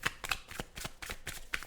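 A tarot deck is split and shuffled close up, producing a quick run of crisp riffling card flutters with a few sharp snaps, with no talking.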